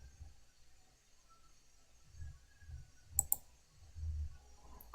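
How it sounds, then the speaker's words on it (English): Two sharp computer mouse clicks close together in Excel, crisp and near, over faint low room rumble and soft handling noise, with no talking. "We're going to click OK."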